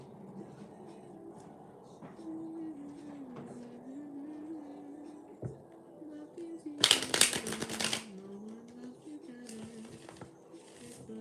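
Playing cards are shuffled in a quick riffle, a short burst of crisp fluttering clatter standing out over a soft, continuous voice in the background.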